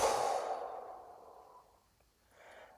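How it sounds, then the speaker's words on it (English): A single strong exhale through the mouth during a Kundalini breathing exercise, loud and breathy at first, then fading over about a second into near silence, with a faint breathy trace at the end. "Strong out breath through your mouth."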